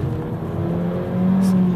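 Mercedes A45 AMG, the 360 hp hatchback, accelerating close by, its engine note rising and growing louder into a strong, steady drone.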